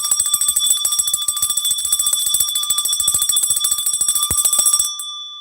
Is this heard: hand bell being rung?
yes